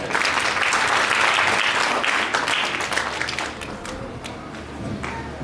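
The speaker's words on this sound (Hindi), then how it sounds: "जोरदार तालियां हमारे मुकेश अग्निहोत्री जी के लिए।" Audience applause at a religious gathering, vigorous dense clapping that swells early and then eases somewhat while continuing to the end.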